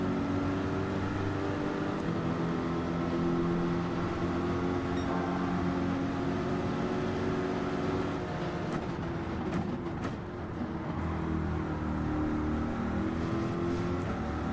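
Race car engine in Gran Turismo 7 daily races on a classic track, a steady droning whine held at high revs with slight pitch shifts, continuous and fairly loud.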